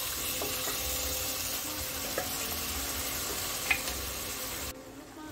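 Boiled mutton frying with spring onion flowers in a pan, a steady close sizzle with faint stirring scrapes and clinks, dropping off abruptly near the end.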